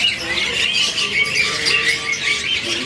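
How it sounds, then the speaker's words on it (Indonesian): Albino and lutino parakeets at the Pramuka bird market in Jakarta squawk and chatter in a dense, continuous flock chorus, with shrill overlapping calls at close range and no pauses. "Dari pilihan jenis burung parkit albino dan lutino ini"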